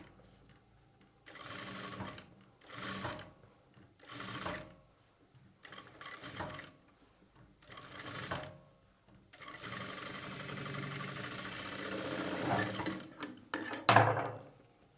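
A sewing machine stitches piping onto a lining in several short bursts of rapid mechanical whirring separated by pauses, then a longer steady run near the end, with a few small clicks.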